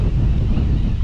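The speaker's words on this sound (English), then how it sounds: "That wind has got me moving." Strong wind buffets the microphone outdoors while fishing for redfish, a steady loud low rumble filling the whole moment with no break.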